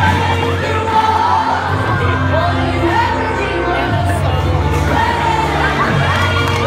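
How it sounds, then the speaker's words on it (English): Audience applause and cheering at a high school all-night grad party hypnotist show, a loud continuous crowd roar with shouts and whoops layered over music. "Give them a great round of applause."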